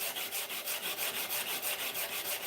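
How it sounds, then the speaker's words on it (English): Hand sanding a knife, heard as steady, rhythmic back-and-forth rubbing strokes, about three per second, close and even, with no talking. "let's hand sand for a bit and hopefully get this first knife done"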